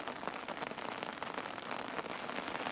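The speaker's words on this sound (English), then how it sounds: "Can you hear me over the rain on the tarpaulin?" Steady rain drums on a tarpaulin over a camping tent, a dense, even patter of countless close drops with no letup and no voices.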